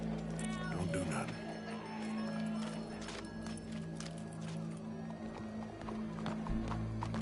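Horse in a video game clip-clopping with steady hoofbeats over a constant backdrop of in-game ambience, with a whinny mixed in and voices faintly present.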